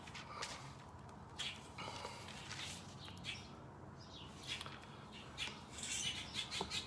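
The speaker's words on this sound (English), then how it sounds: "The baby birds are crying for their food." Baby birds cry for food in a string of faint, high, scattered chirps and squawks, heard from a distance under a soft background hiss with no talking.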